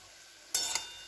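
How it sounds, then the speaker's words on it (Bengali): Fish going into a wok of hot oil tempered with bay leaf: a sudden loud sizzle bursts in halfway through and keeps crackling steadily after a quiet start. "এটা আমি ফোড়ন দিয়ে মাছগুলো দিয়ে ফুটিয়ে নেব"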